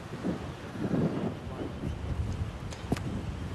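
Wind gusts across an outdoor lawn bowls green at the 2007 Queensland Open, a broad rumbling buffet against the microphone that swells and eases over a few seconds, with no talk over it.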